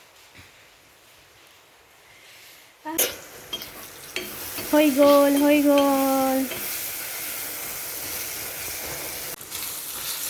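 Rice is fried with egg, vegetables and ghee in a pan. A stirring scrape and a sizzle come in after a quiet start and stay fairly close, while a steady hiss runs under brief talk.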